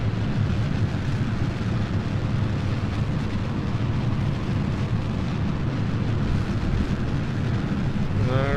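Rocket engines thrusting at launch in a space video game, a steady, loud, dense roar that fills the whole clip without letting up, with low rumble underneath and no talk over it.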